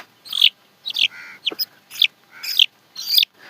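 A young male chicken calls from close by: about six sharp, high-pitched squawking calls in a fairly even rhythm, loud and alone against a quiet background.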